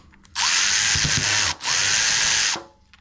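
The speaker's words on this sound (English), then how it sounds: "We'll first take the 10mm bolt off the bottom" Powered driver whirring loudly in two sustained bursts with a short break between, close up, removing a 10mm bolt from the carburetor bowl of a Westinghouse iGen4500 generator that won't start.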